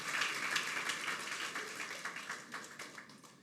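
A church congregation at a Sunday afternoon service claps their hands in a dense, steady patter, faint and somewhat distant, tapering off toward the end.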